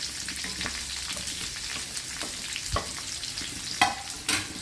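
Chopped onions, shallots and green chillies added to hot oil sizzle steadily for a Kannada-style peechinga gojju, with crisp pops and a few louder scraping stirs near the end, no one speaking.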